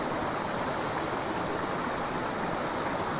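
A small river stream flows through a forest beside a bridge, a steady, full broadband rush of running water that stays close and constant throughout with no voices.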